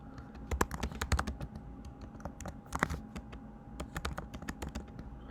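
Fingers typing on a computer keyboard, close and steady, with rapid irregular key clacks in runs and brief pauses, some heavier strokes standing out.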